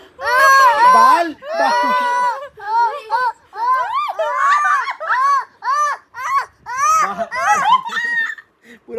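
A small child shrieks, wails and cries loudly in repeated bursts while pulling a woman's hair, the close, high, strained cries running nearly continuously with short gaps.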